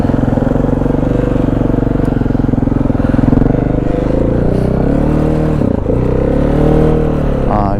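A motorcycle riding in gear along a main road, its engine droning loud and close with steady rumble, slight pitch shifts as it eases and picks up speed, and occasional rattle.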